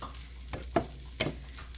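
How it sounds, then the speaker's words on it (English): Spinach and cheese frying in a pan get a brief stir, with a soft steady sizzle and a few distinct scraping strokes from the utensil, close and quiet with no talking. "And then I just give it a stir."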